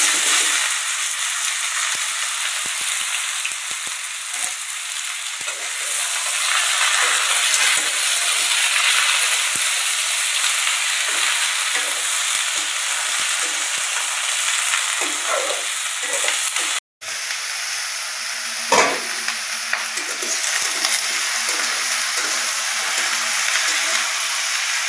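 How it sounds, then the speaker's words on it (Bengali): Chopped ridge gourd frying in a hot pan gives a steady, loud, continuous sizzle and hiss, with a brief sharp knock partway through and no talking. "সবজিগুলো ডালছি, এই যেগুলো কেটে রেখেছিলাম সেগুলি।"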